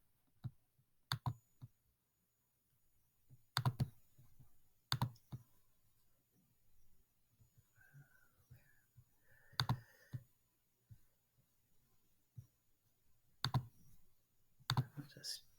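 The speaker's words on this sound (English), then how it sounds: "I'll just type in 2017." Sparse keyboard typing while a date is entered into a citation form, with clicks falling in irregular short clusters and separated by pauses, fairly close but quiet, with faint speech-like murmurs in between.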